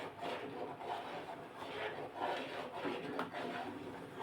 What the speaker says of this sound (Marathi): आता हे सारखं दोन तीन मिनटासाठी ढवळत राहायचं आणि नंतर मग मधून मधून याला असं तळापासून ढवळायचं आहे